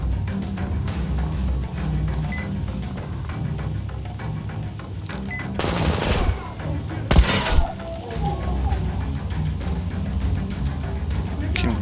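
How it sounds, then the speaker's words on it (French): Enemy gunfire crackles in a Metro Exodus swamp level, with dense bursts and single shots aimed at the player over a rumbling game soundscape, growing louder midway as someone speaks now and then. "Qui me tire dessus encore?"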